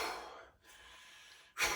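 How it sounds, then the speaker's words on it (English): A deep breath during a breathwork exercise, heard up close: a long airy inhale, a brief pause, then a sharp, louder breath at the end. "try to get a full breath when you reach up"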